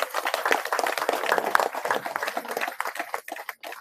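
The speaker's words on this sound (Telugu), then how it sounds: "ఒకసారి అందరూ గట్టిగా క్లాప్స్ అండి" A crowd at a spiritual meditation gathering claps loudly, a dense burst of hand claps that thins out and turns patchy toward the end.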